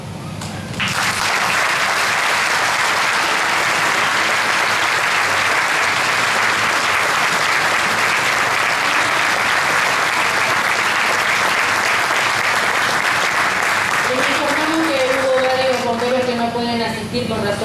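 A large audience at a ceremony honoring the volunteer firefighters of Coronel Dorrego gives a long, loud, sustained round of applause that ends as a voice begins speaking.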